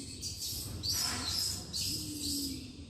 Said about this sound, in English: Those noises you can hear are pups.